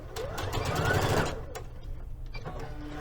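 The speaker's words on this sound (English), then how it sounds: "And backstitch." Sewing machine running a short burst of backstitching on a Liberty London palazzo pant seam, a steady close whirr that stops partway, followed by quieter handling sounds.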